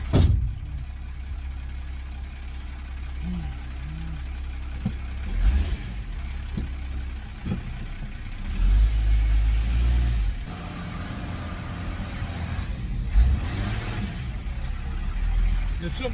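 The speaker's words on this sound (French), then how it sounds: "Le turbo il marche, on l'entend" A Dodge W400 truck's turbo diesel engine rumbles steadily on a test drive, with low droning surges as it accelerates, while people talk over it now and then.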